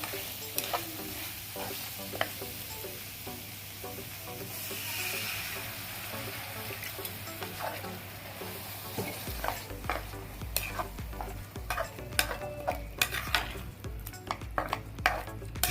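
A drumstick and tomato curry with added water is stirred in a pan, giving steady scraping and soft sizzling that turn louder and busier with sharp clinks of the spoon against the pan toward the end.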